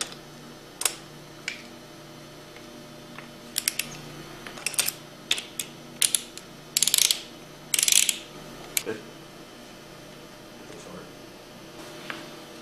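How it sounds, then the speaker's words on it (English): A torque wrench ratchets on the bolts of a Hypro 2535S triplex plunger pump, giving sparse, close, sharp metallic clicks and short clustered bursts over a quiet background. "Torque the bolts to 40 foot-pounds."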